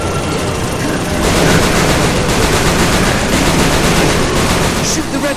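Dense, loud gunfire from the video game Shadows of the Damned, a continuous rattling barrage of rapid shots mixed with booming noise that stays intense throughout.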